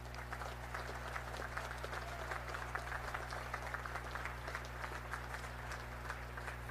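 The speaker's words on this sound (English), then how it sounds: "Please join me in recognizing and applauding these distinguished graduates." A large crowd at a Naval Academy commencement gives sustained, dense applause for distinguished graduates. The clapping is steady and somewhat distant over a low constant hum.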